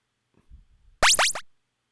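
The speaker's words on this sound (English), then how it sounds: "Common sound. Bomb pickup." A bomb pickup sound effect: a loud, bright double swoosh-like electronic burst of about half a second, following a few faint low rustles, heard alone.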